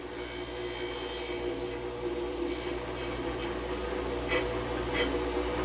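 Hercules 8-inch bench grinder grinding metal down, a continuous rasping hum with a couple of brief sharper scraping bursts toward the end, no talking.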